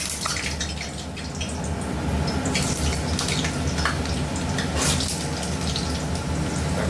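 Potatoes frying in hot oil in a pan with salt and turmeric, a loud, steady crackling sizzle that carries on without a break.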